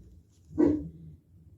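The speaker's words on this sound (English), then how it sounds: "in between dog barkings" A single dog bark at home, short and moderately loud, rising out of quiet room noise and fading within a fraction of a second.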